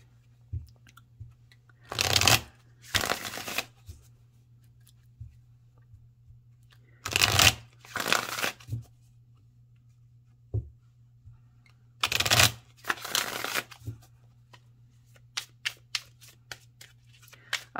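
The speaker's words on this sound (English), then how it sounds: "Shuffle on camera." An Egyptian tarot deck is shuffled up close in three bursts of crisp riffling, each a couple of seconds long, separated by quiet pauses over a steady low hum, with a few light taps near the end.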